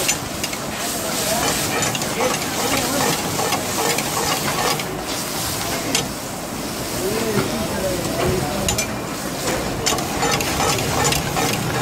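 Mint and green chili paste lands in oil in a karahi and fries with a loud, continuous, close sizzle and hiss. Stirring noises come through over it, and a voice talks faintly underneath.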